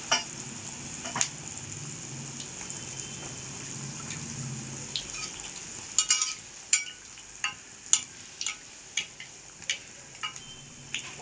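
Potato cheese balls frying in oil, a low soft sizzle with a string of sharp crackling pops and spits growing more frequent in the second half, close and fairly quiet.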